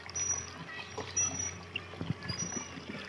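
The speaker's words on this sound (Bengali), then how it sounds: "এটা হচ্ছে ব্যাটারি চালিত মোটর," A battery-powered motor pumps water onto new pillars at a home construction site, a low steady hum with a soft splashing, pouring wash.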